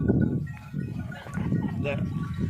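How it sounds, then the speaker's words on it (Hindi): A herd of goats and sheep approaches a rain-fed pond to drink, with soft bleats and animal bustle in the background under continuous nearby talk. "ये बकरियां और भेड़ें, वो बकरियों का एक जो है वो रेवड़ आ रहा है पानी पीने के लिए।"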